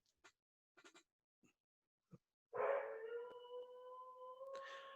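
After a few faint scattered taps and clicks, a dog lets out a long, steady, tonal howl that rises and holds for several seconds, close and clear against otherwise quiet surroundings.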